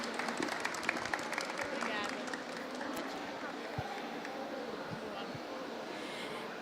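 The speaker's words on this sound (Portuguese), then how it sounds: "uma salva de palmas, por favor," An audience at a design talk on stage claps steadily for the speaker, a full, even burst of applause that softens over the second half, with a voice speaking faintly beneath it.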